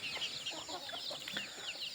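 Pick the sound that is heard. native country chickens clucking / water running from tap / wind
native country chickens clucking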